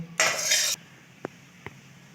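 Cooked vegetable stalk curry is poured from one pot into another in a village kitchen, giving a brief loud rushing pour followed by two faint clinks of metal utensils.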